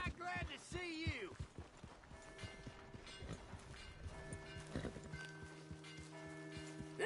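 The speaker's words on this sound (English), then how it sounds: "Hey! My horse!" Horse hooves clip-clop in the Red Dead Redemption II video game, a run of close, rhythmic thuds under a layer of game music and ambience, with a short burst of voice early on.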